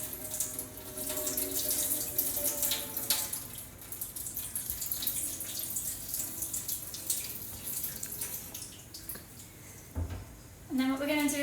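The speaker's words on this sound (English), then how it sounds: "I'm going to empty the water out and catch my seeds" Water runs and splashes steadily for several seconds as it pours out of a container holding cherry seeds, with a voice speaking over the flow and a brief clatter near the end.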